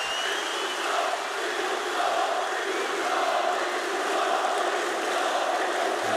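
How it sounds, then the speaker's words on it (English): At a CS:GO major in Kraków, a huge esports arena crowd roars in a steady, dense wall of cheering that holds loud and unbroken throughout. "I don't think we've ever in esports had a crowd like this."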